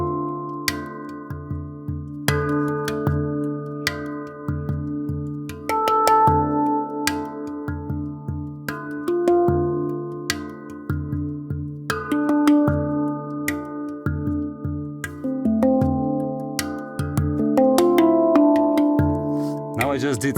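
A handpan played in slow improvisation, single ringing metallic notes struck one at a time with long sustaining tones and clear pauses, close and alone.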